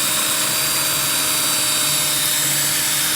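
A rotary tool bit grinds a bevel into glass with a steady, high, whining buzz mixed with harsh grinding noise, close and loud for the whole stretch, no talk.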